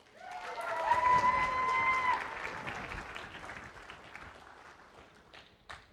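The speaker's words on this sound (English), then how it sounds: "This is where you can applaud yourselves." A convention audience at opening ceremonies in a hotel claps together in a broad swell that peaks early and then slowly thins out. A faint tone rings over the start, and a few voices carry beneath the clapping.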